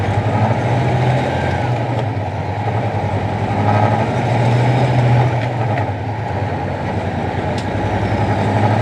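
An International ProStar truck engine rumbles loud and steady from inside the cab, pulling in low gear with a deep droning growl that swells and dips slightly as it hops, with no talking.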